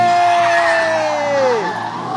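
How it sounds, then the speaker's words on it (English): Car drifting trackside at a motorsport event, a loud engine note with a high tone that sweeps downward as the car passes, over broad tyre and crowd noise. "let's get some mad shots, fam, of this drifting"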